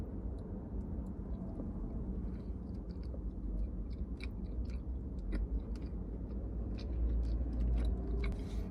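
Close chewing of Filipino pork sisig, soft wet mastication with occasional faint crunches, steady and continuous over a low background rumble.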